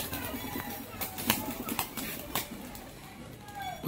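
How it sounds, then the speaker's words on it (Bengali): Display pigeons performing aerial tumbling flights clap their wings in sharp, cap-like snaps, a handful of irregular cracks spread over a few seconds against a steady outdoor background murmur. "প্রত্যেকটা পায়রার বাজি সহ ক্যাপ ফাটার মতো শব্দ।"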